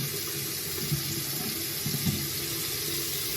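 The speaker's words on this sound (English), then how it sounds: "I wash my hands first." A tap runs steadily into a sink as hands are washed under it before using papaya soap, a close, constant rush of water with faint rubbing and shifting underneath.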